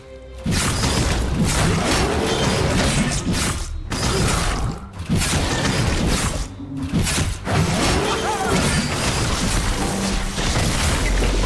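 A League of Legends turret crumbles during a Darius versus Fiora top-lane match, a loud, dense stretch of grinding, cracking and crashing debris with a few brief dips in the noise.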